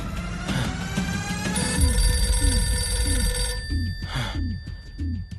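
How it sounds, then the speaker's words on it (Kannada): A telephone rings continuously and loudly at close range in a movie scene, its electronic ringtone repeating in quick regular pulses, with no talking. "phone ತೆಗಿಬೇಡ please"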